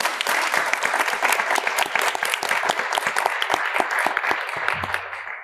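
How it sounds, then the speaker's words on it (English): Steady applause from a conference audience at an arbitration event in Edinburgh, many hands clapping densely and continuously, loud and close, tapering slightly at the end. "Can we get a round of applause for them again"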